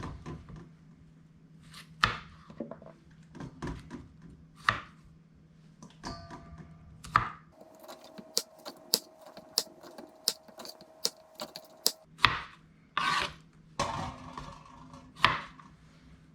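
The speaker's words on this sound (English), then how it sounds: "We're gonna go ahead and cut off the ends and show you how." Knife trimming the ends off about half a pound of Brussels sprouts on a cutting board, a series of sharp, separate chops in an irregular rhythm, close and fairly quiet.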